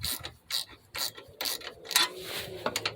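A ratchet wrench tightens a car battery hold-down in quick repeated bursts of crisp metallic clicking, close and unaccompanied by voices.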